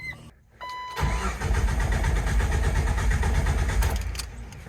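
A car engine cranks over on the starter during a home compression test, a steady run of loud, rapid rhythmic chugs lasting about three seconds before stopping.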